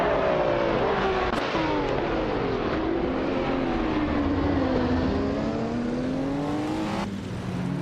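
Group 5 race cars, including a 1979 BMW M1 on pole, roar off the start at Norris Ring in a racing game. Loud, continuous engine drone with rising and falling revs, close and steady throughout.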